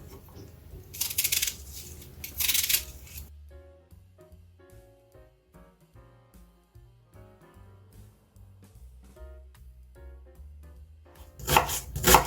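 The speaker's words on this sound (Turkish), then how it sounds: "Önce soğanlarımı yemeklik doğruyorum." A knife chops onions rapidly on a cutting board in two quick bursts, then quieter soft tapping and rustling, before another burst of fast chopping at the end.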